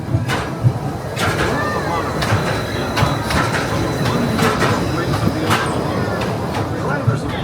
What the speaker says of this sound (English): Daily operating monorail system in the entire Western Hemisphere, gliding above Disneyland since 1959.